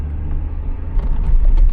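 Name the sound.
car engine accelerating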